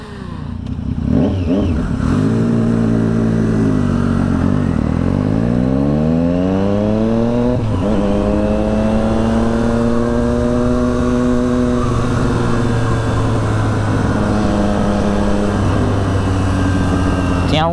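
Triumph Street Triple 675 motorcycle riding on the road, its engine revving up and down through the gears in repeated rising sweeps, loud and close and continuous, under wind noise.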